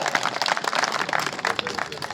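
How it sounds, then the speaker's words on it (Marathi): Applause from a crowd at a Maharashtra kushti wrestling event, dense continuous clapping filling the whole stretch, fairly close and steady with faint crowd noise mixed in. "टाळ्या"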